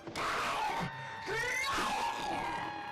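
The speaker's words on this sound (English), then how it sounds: "that guy's scream is flawless" A man screams in the 2014 horror comedy film Zombeavers, letting out a sustained, wavering shriek that rises and breaks over about three seconds, loud and close.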